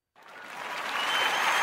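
Applause from an excited church congregation swells in after a brief silence and builds to a steady, dense clatter of clapping that holds loud to the end.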